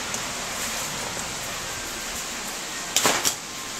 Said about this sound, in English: My whole front porch is covered in rain